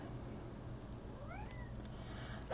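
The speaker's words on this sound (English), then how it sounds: "Sorry if you hear my cat." A pet cat meows outside a door wanting back in, a single drawn-out rising and falling cry in the middle distance over a quiet room hum, with no talk.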